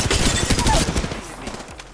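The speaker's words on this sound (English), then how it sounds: "Opening fire on the enemy" Rapid gunfire from an Apex Legends firefight crackles in a dense burst of close shots, fading out after about a second.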